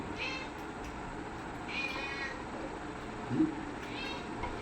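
A cat meows three times in short, rising cries spaced a second or two apart, faint against a low background hum, with a brief soft voice-like sound between the second and third calls.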